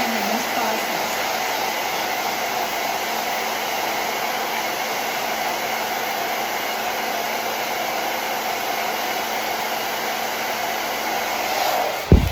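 Hair dryer blowing on the center of a handmade craft daisy, a loud steady close roar held unbroken, cutting off abruptly at the end.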